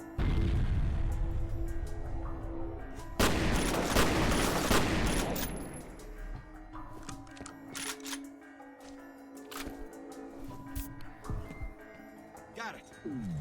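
A grenade blast and bursts of gunfire in the shooter game F.E.A.R., a loud sustained explosion roar followed by scattered sharp shots, with voices talking over the combat.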